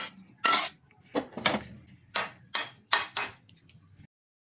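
Sautéed corned beef for a sisig-style dish being scraped from a pan with a utensil, giving a series of about six sharp, close metallic scrapes and clinks spaced irregularly over a faint background hum.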